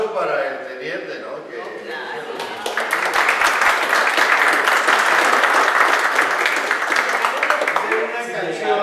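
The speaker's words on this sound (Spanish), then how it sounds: "El aplauso para el teniente" An audience applauds a lieutenant after a sung song, the clapping swelling from scattered hands into a full, steady round that fills the room and fades toward the end, with voices faintly audible at the start.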